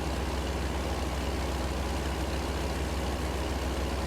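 A truck engine in American Truck Simulator drones steadily and loudly, a constant low rumble with no change in pitch or level throughout.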